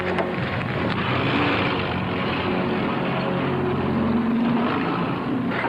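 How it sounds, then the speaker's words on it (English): A Messerschmitt warplane flying in, a continuous droning engine rumble that holds steady and fairly loud throughout, with no talk. "Plane coming in at 11 o'clock! Mr. Messerschmitt, can you hear it?"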